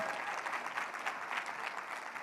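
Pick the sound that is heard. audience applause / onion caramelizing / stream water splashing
audience applause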